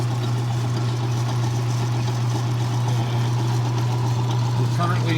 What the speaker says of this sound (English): We got it in the lathe. We'll start the lathe up.